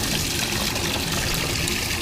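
Water gushes out of a cooler's drain plug while live crawfish are purged in salt water, a dense continuous splashing rush that stays steady and close for the full two seconds.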